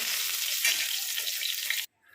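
Steady, loud sizzling of pointed gourd frying in hot oil, a dense crackling hiss that cuts off abruptly near the end.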